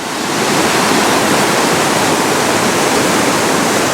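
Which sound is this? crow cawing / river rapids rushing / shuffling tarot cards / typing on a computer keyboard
river rapids rushing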